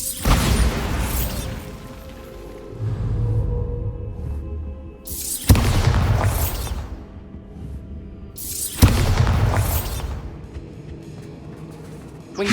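Three heavy Bombarda spell blasts in Hogwarts Legacy, each a sudden loud boom with a crackling, rumbling tail that fades over a couple of seconds, spaced a few seconds apart.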